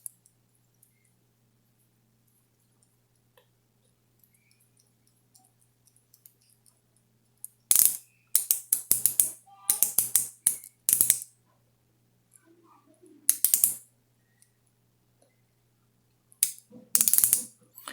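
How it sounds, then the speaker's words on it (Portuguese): A micrometer with 0.01 mm resolution has its ratchet turned as the spindle closes onto a workpiece. It makes several close bursts of rapid, faint clicking separated by quiet pauses. "fechando aqui pela catraca, chegando aqui no ponto de medição, vai travar, travou"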